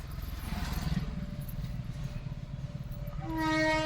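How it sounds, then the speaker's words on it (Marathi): Train rumbling past close to a railway crossing with the gate down, a steady low clatter of wagons throughout and a horn-like tone rising toward the end, no talk. "हे बघा, ट्रेन आली आहे"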